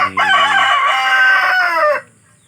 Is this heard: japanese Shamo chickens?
yes